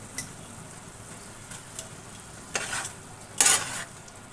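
Drumstick curry stirred in a pan, a quiet simmering sizzle with a few distinct scraping strokes of the spatula, the last two louder and longer, close with no talking.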